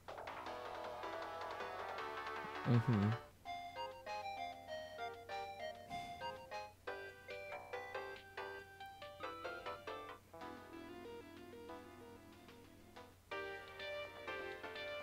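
Tinkly melodic phone ringtone previews from the Steins;Gate 0 video game play one after another as short chiming tunes, faint and electronic, with a brief bass thump near the start.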